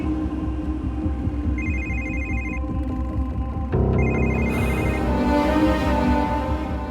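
A telephone rings unanswered with a repeating electronic ringtone pattern over a dense background score, and the ring drops out briefly midway before starting again.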